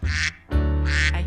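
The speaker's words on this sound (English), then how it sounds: "I hear a duck." A duck quacks loudly twice, close up, with a short pause between the nasal calls.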